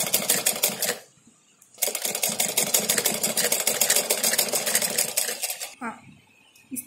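Sewing machine stitching a cloth mask, a loud close rapid mechanical clatter in two long bursts with a brief pause between, ending as the machine stops and a voice briefly speaks.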